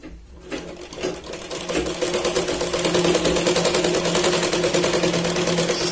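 A sewing machine stitches a katori blouse in a steady, close, continuous mechanical whir that starts after a brief pause and holds an even, rapid rhythm, with no talk over it.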